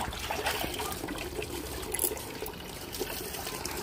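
Water splashes and trickles steadily while a child is washed during a bath at home, a continuous close pouring and dribbling sound with no talk.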